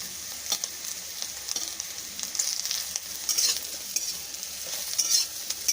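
Bitter gourd frying in a pan, nearly browned, with a continuous close sizzle broken by repeated scraping and clicking as it is stirred.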